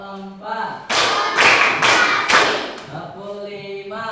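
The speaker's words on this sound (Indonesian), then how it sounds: "Tepuk 1 kali. Tepuk 2. Tepuk 3. Tepuk 4." A group claps in unison in a classroom, four loud, evenly spaced claps with voices speaking faintly before and after.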